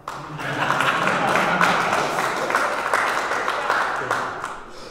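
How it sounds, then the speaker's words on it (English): An audience claps at a check presentation for a $1.9 million infrastructure improvement project in Adrian: steady, dense applause from a room of people, loud and sustained for several seconds before it tapers off. "That's when you guys all clap."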